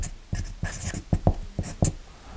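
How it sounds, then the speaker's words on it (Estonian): Keywords are written by hand on paper, giving close, soft scratching strokes in short irregular bursts with tapping pen contacts. "Ehk ma panen oma väikesed märksõnad sinna kirja."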